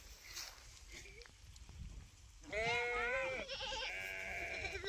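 Goats and sheep bleat while grazing on a family farm, several overlapping, wavering calls rising near the middle and continuing to the end over a busy outdoor background.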